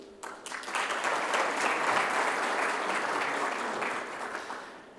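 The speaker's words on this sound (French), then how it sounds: "Je vous prie de les applaudir." An audience claps after being invited to applaud volunteers at a conference, a dense round of clapping that swells quickly, holds steady, then begins to thin toward the end.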